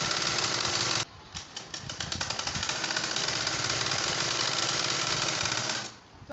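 A sewing machine runs steadily, stitching the right-side seams of satin palazzo pants. Its even, buzzing rattle fills the space with a brief dip near the start, then continues nearby without a pause before fading out at the end.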